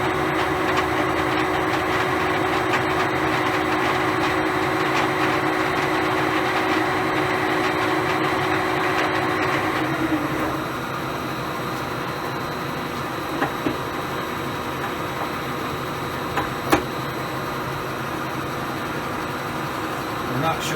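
A metal lathe runs steadily at spindle speed during commissioning, a constant mechanical whine and hum that drops in pitch partway through, with a few clicks.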